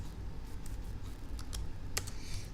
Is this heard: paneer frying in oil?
no